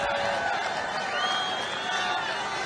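Crowd at a Trump rally in Freeland, Michigan, cheering and applauding in a broad, steady roar that carries throughout, with someone speaking over it.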